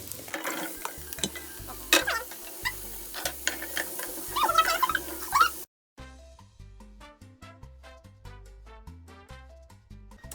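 Pumpkin poured into a pan over translucent onion in walnut oil, giving a stirring, frying clatter with soft sizzle for several seconds before a brief cut, then a quieter, steady rhythm of clinks and scraping.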